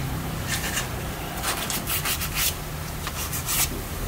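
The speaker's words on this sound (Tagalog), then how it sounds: "Liha-liha." Steady scratchy rubbing of 120-grit sandpaper against a metal brake drum, repeated back-and-forth strokes close up, with no talking.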